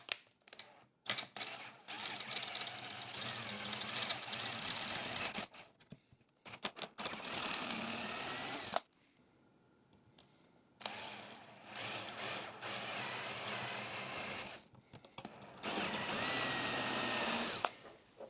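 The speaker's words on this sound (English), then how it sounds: "I think I'm just going to have to use the good old-fashioned drill." Hand drill reaming holes in a stainless steel part for rare classic car parts, running in several loud sustained bursts separated by short pauses and a quieter gap, with no talking.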